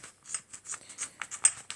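Scissors make a quick series of crisp snips, close and fairly quiet, about a dozen cuts in an uneven rhythm with no voices.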